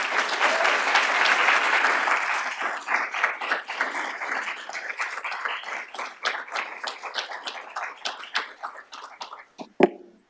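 A lecture audience applauds to welcome a law school guest speaker, starting as a full, dense wave of clapping that gradually thins into scattered individual claps before a final sharp clap.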